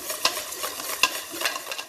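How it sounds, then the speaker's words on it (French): Liquid vanilla is stirred into vanilla cupcake batter, a steady scraping, swishing mix with two sharp clinks of the utensil against the bowl, close and alone without talk. "Et je vais mélanger à nouveau donc ma vanille liquide dans ma préparation."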